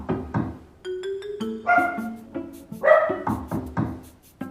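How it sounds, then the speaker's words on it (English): A dog barks a couple of times in reaction to a knock played through a speaker, mixed with whining yips and whimpers, fairly close, with some tonal beeps early on. "she barks twice"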